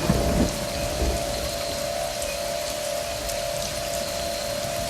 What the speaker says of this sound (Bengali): সেই দিন এইরকমই বৃষ্টি পড়ছিল।